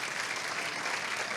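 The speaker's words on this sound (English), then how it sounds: "Please stand and give them a round of applause." A short burst of continuous audience applause at a school reading event, dense and steady, greeting building representatives as they stand.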